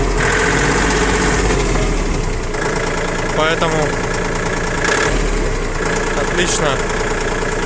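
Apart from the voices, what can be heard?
Kubota L1-185 mini tractor engine running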